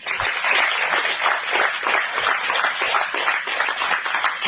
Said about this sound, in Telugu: అందరూ ఒకసారి గట్టిగా చప్పట్లు కొట్టండి.